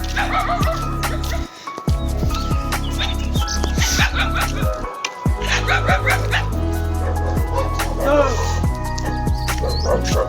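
Several dogs bark repeatedly and loudly near farmland in Karnataka, sharp overlapping barks and yips with birds chirping behind and a person shouting over them.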